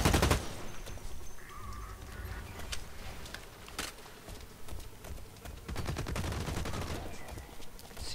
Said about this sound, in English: Seems to be gunfire around these parts.